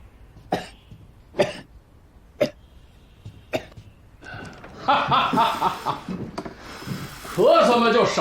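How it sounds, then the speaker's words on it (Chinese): A person coughs four times in sharp, separate bursts spaced about a second apart, followed by talking and laughter from people nearby. "咳嗽嘛就少抽点儿"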